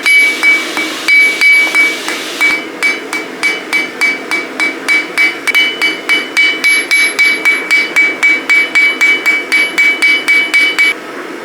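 Steel hammer beating metal into a field tip arrowhead, a loud, rapid and steady run of ringing blows that continues for the whole stretch with no talk.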